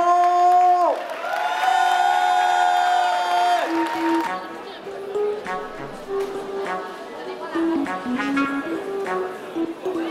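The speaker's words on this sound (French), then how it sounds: "Je vous tiens à applaudir Laurent." A crowd at a French community forum event cheers, with drawn-out whoops and shouted voices rising over scattered clapping, loud and close, the cries swelling and dipping in uneven bursts.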